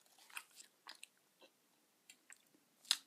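Crunchy bites and chewing of a Slim Jim beef jerky stick, several sharp crisp snaps and mouth sounds spaced out in a quiet room, close and fairly soft, no talk.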